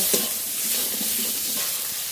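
Ground spices mixed with salt and turmeric stirred and fried in a pan while cooking jackfruit with prawns, soft continuous sizzling with scraping stir strokes, close and fairly loud, no voices.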